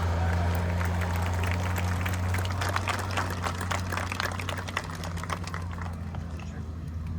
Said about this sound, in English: please join me and give me a huge round of applause for Ronnie Atkins.